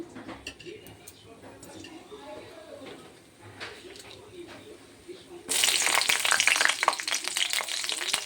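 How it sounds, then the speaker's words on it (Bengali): Asafoetida dropped into hot oil in a kadai while cooking cabbage sabji: quiet kitchen noise and a voice at first, then a sudden loud, steady sizzle that bursts up and continues close by. "তেল গরম হয়ে গেছে বন্ধুরা, হিংটা দিয়ে দিলাম।"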